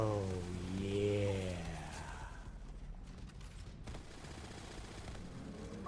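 Rapid gunfire bursts from the shooter video game Borderlands 3 fill the scene, a dense sustained fusillade with whooshing effects, following a brief voiced sound at the start.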